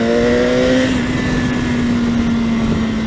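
BMW S 1000 XR motorcycle from 2018 with a steady, loud engine drone that drops to a lower pitch as it shifts up into second gear, heard close from the rider's position with no talk.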